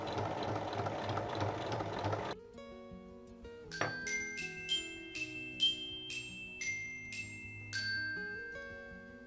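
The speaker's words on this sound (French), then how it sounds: "on fait une surpiqûre tout autour à 5 mm pour refermer" A domestic sewing machine runs a topstitch around the edge of a fabric tea set piece, preceded by a dense burst of noise, then a series of bright metallic clinks and ringing tones over a low motor hum.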